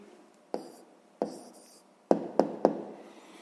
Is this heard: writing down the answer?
yes